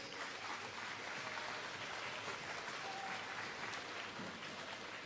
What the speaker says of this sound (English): one last round of applause for all of our award winners